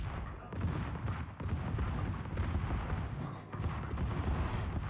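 A battleship's secondary guns fire in a naval submarine video game, making a dense, continuous barrage of booms and crackling blasts that runs for several seconds and swells and dips slightly, with no voices over it.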